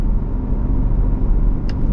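A Ford Bronco Raptor's 2.7-liter engine drones steadily under load while driving, a loud, close low rumble with road noise that holds even throughout.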